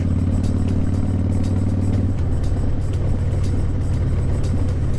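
A trike riding in traffic behind a bus, with a loud, steady engine drone and rumble close up, and wind buffeting running throughout.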